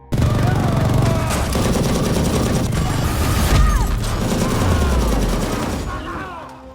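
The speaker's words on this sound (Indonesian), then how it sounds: "mereka saling beradu tembak dan terjadilah pertempuran 1 melawan 2" Sustained loud gunfire in an action movie shootout, dense rapid shots and crashes packed together, with a dramatic low swell and a narrator speaking over it.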